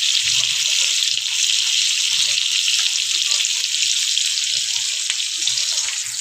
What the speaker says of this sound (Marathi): मच्छीचं तेल होतं त्याच्यामध्ये फ्राय करत आहे.